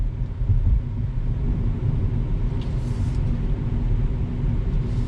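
A 2020 BMW 228i Gran Coupe heard from inside the cabin while driving around corners, a steady low engine and road rumble with faint tire noise.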